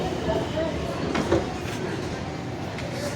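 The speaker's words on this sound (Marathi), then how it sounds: "ही आहे मेट्रो." A metro train in Pune runs past with a steady, dense rumble and faint clicking, fairly close, while people talk in the background.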